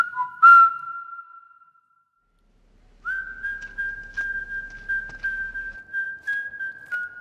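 A person whistles a sustained, steady tone, pauses briefly in silence, then resumes whistling a long, wavering note with small breaks, close and clear.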